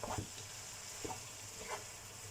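Vegetables for a vegetarian lasagne are stirred in a sizzling pan, with three soft scraping strokes over a steady quiet fry.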